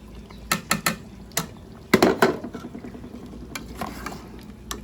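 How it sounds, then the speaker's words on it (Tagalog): Carrots and potatoes tipped into a pot of softening meat for a homemade stew, with sharp clattering scrapes and knocks of stirring, a few loud bursts and a busy cluster of clacks, no voices. "ilalagay ko na yung carrots and potato"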